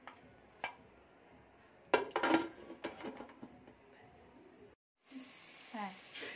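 A metal lid is set and fastened onto a biryani pot over a low flame, making a burst of clattering clanks and scrapes midway, followed by quieter handling and a voice talking.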